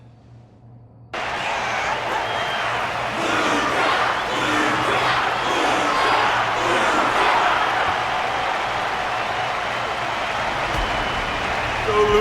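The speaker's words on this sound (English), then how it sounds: "The audience's passion stays strong. Their constant applause is a salute to this resilient Belabogian fighter." A large video game crowd roars and claps continuously, a dense wash of cheering and applause that starts abruptly and stays loud throughout.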